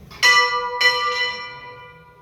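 Swung a full turn by a bell ringer, a church bell with its clapper inside sounds two strong, bright strokes roughly half a second apart, close by, each leaving a rich ringing tail that slowly dies away.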